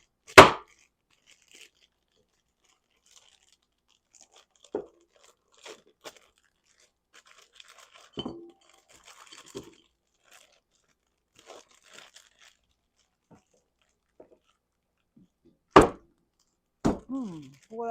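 Hard chocolate is snapped and broken by hand in a kitchen while Oreo truffles are being made, giving sporadic sharp cracks and thunks separated by quiet gaps.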